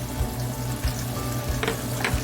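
Garlic fries in olive oil with a dense, continuous sizzle and a low rumbling pan hum, punctuated by a couple of brief scraping bursts; no voices.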